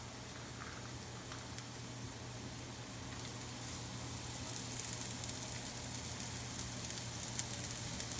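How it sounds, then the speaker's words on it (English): Thinly sliced shallots added on top of mushrooms sizzle in a hot pan, a steady soft crackling hiss that slowly grows a little louder, heard alone without talk. "That's the water coming out of the shallot that you're hearing there right now."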